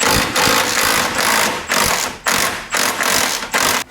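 A power tool repeatedly loosens the top ball joint nut under a Ford Falcon BA/BF front suspension, firing in about seven loud, close, rattling bursts separated by brief pauses.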